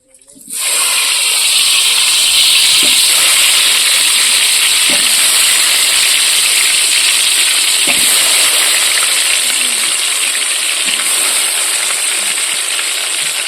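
Potatoes go into a hot frying pot for egg chicken biryani, starting a loud burst of hissing sizzle that rises sharply and then holds steady and strong, with small clinks in the background.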